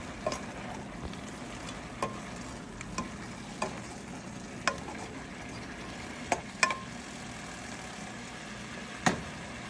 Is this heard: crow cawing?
no